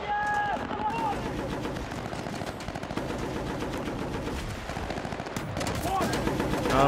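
Rapid machine-gun fire rattles nearly nonstop in Battlefield: Bad Company, with bursts of gunshots close and loud and a voice heard faintly underneath.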